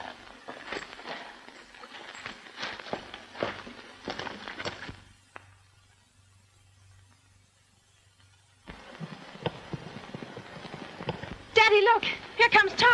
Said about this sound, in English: Here comes Tarzan. Here, Tarzan. Whoa, boy